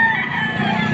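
A rooster crows loudly and close at a chicken market in Padre Garcia, Batangas, one sustained call filling the whole second.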